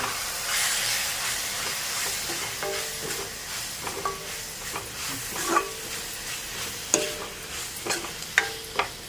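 Eggplant chutney ingredients with chili powder sauté in a hot pan, giving a soft steady sizzle under close, irregular scraping and tapping of a stirring spoon that grows sharper toward the end.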